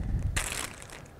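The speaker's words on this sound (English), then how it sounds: "Again, we want to take that, put it in a plastic bag" A hay sample dropped into a plastic bag, a single short crinkling rustle of plastic and dry hay, close and fairly quiet.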